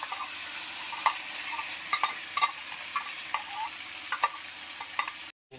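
Potatoes and beetroot fry in a wok with a constant hot sizzle, punctuated by repeated sharp spatula scrapes and stirring knocks, close and alone without talk, ending in a brief cut.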